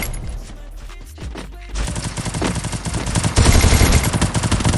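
Loud, dense gunfire in the battle-royale video game Free Fire, with rapid overlapping bursts that swell and intensify near the end, the fire heard alone and up close.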